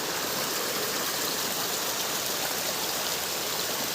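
A stream flows steadily nearby, a loud continuous rushing wash of water with no breaks and no voices.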